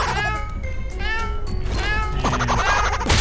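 Repeated cartoonish kitten meows fired from a kitten launcher weapon in the Adventure Time dungeon-crawler game, several high wavering mews in a row over game music, with a burst of chirpy effects near the end.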